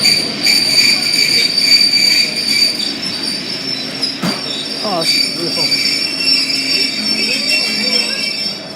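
Trains roll through Manchester Piccadilly station, loud and close, with high wheel squeal sustained across the platform and clattering rail noise. A person briefly speaks partway through.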